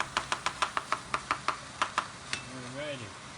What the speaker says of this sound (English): Chop them up nice and get the flavor of that garlic in there.